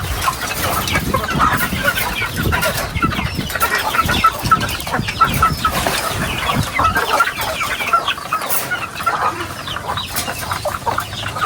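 Backyard chickens at a rural Filipino home cluck steadily and busily throughout, with some fowl chatter overlapping into a continuous, moderately loud farmyard murmur and no talking.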